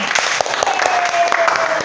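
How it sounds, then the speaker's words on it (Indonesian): A class of schoolchildren claps together in a brief, brisk burst of quick, uneven hand claps nearby, with a faint tonal whine running underneath. "Oke, tepuk tangan dulu buat kalian."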